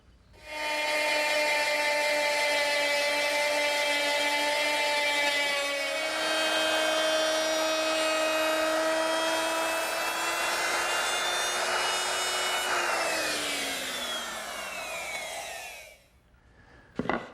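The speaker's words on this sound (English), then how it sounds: "now I'm going to mill the corresponding edge of the leaf with a 3/8 inch cove bit" A router with a 3/8 inch cove bit mills the edge of a harvest table leaf, giving a loud, steady, high whine with rich overtones that shifts pitch partway through, then winds down and stops near the end.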